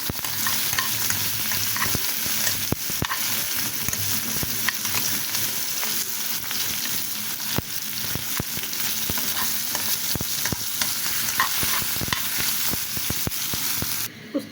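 Bitter gourd (ustaa) fries in hot oil with vigorous stirring, dense crackling sizzle punctuated by repeated scraping and clinking of a utensil against the pan, close and continuous, no talk.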